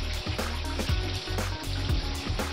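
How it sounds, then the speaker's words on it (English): Shower on a yacht running after a hair clog was cleared from the drain, water splashing steadily with broadband hiss and a low rhythmic pump-like thumping underneath, close and fairly loud. "turn on the shower and"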